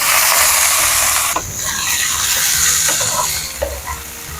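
Tomatoes and green chillies frying in a smoking pan, a loud, dense sizzle and hiss that steadies and softens slightly, with a few scraping stirs partway through.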